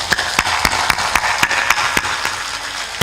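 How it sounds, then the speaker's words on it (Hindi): An audience at a spiritual discourse clapping with hands raised overhead, a loose rhythm of sharp claps at moderate distance, a few sparse claps at first that fall into a steadier beat. "ऊपर ऊपर ताली बजाते हैं"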